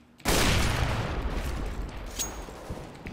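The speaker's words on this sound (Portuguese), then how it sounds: "Throwing flashbang!" A flashbang grenade goes off in the Counter-Strike video game, a sudden loud broadband blast that hits hard and then rings out in a long, slowly fading roar, with no talking.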